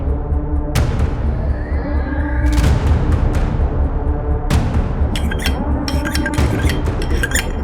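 A knife taps against a glass of water in a quiet indoor room. It gives several sharp, ringing clinks spaced irregularly, with a few duller knocks among them.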